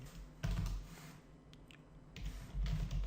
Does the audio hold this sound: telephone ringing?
no